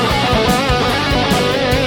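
Distorted electric guitar plays a fast phrase from a solo, dense, loud and sustained with quick note changes and no talking.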